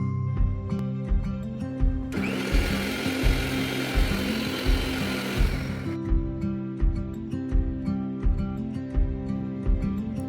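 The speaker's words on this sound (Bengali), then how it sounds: "একটা মিক্সিং জারে ভেজে রাখা সবজিগুলো দিয়ে সামান্য টক দই দিয়ে ভালো করে একটা মিহি পেস্ট বানিয়ে নিতে হবে" A mixer grinder whirs loudly for a few seconds, blending fried vegetables with sour curd into a smooth paste. Rhythmic background clatter and a steady hum sit under it and continue after the motor stops.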